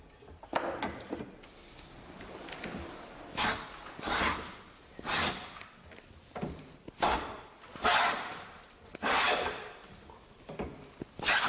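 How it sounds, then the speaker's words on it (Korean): A wooden hand plane shaves a thick piece of wood for traditional Korean wooden furniture, roughly nine rasping push strokes in a steady rhythm, close and distinct with quiet pauses between. "이렇게 깎을 때는 이제 좀 두꺼우니까 초벌 대패로 좀 깎고 이제 시하게 대패로 깎는 거예요"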